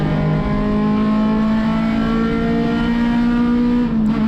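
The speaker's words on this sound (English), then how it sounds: "You can hear how low the RPMs are going through here in 4th" Acura RSX race car engine held at low revs in fourth gear on track, a loud continuous buzzing drone with a steady pitch that dips slightly near the end, heard from onboard.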